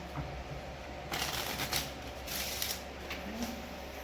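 Playing cards are riffled and shuffled in several quick bursts during a live magic show, close and crisp over a quiet background hum.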